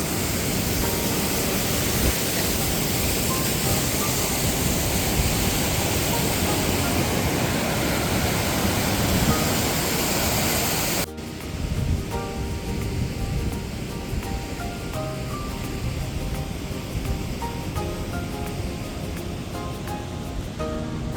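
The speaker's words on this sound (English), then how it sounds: "So here's my small waterfall." A small mountain waterfall pours into a river along a trail, a dense, steady rush of water that holds loud and continuous throughout, slightly shifting in tone partway through.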